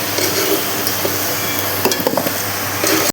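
Potatoes fry in mustard oil, a loud continuous sizzle close by, with scattered scrapes and stirring clinks as pieces are moved in the pan.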